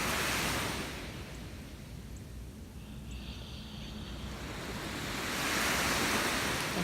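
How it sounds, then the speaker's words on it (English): Sea waves wash in a steady broad roar, swelling louder at the start and again toward the end as surf breaks. "Taking the breath to the sound of the sea."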